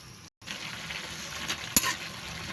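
Pansit bihon rice noodles boiling in broth, a steady bubbling hiss that stays constant, broken once by a brief gap and later by a single sharp clink.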